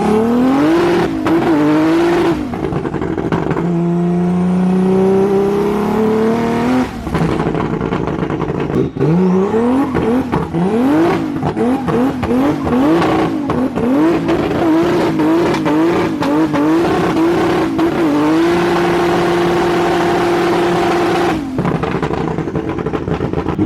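A turbocharged BMW E46 M3 on a dyno revs hard and loud, its engine note sweeping up and down in repeated pulls with a sustained high-rev hold near the end.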